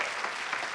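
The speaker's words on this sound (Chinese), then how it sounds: "掌声送给他。" A studio audience at a matchmaking game show applauds the returning male guest, a brief, soft, even rush of clapping heard from a distance.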